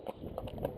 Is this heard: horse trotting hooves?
yes